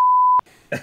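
A censor beep: one loud, steady pure tone lasting under half a second and cutting off abruptly, followed by a short burst of a voice.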